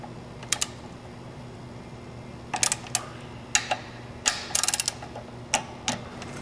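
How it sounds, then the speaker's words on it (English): A torque wrench tightening nuts and bolts to 14 foot-pounds on a bike, giving sharp, scattered clicks: single ticks and short bursts of several, close and fairly crisp over a quiet background. "the torque wrench will click for you"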